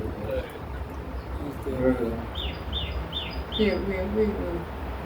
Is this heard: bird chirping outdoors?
yes